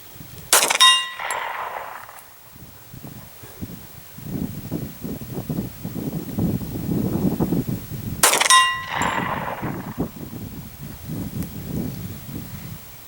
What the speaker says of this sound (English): Alright, GLOCK 21 at 50 yards.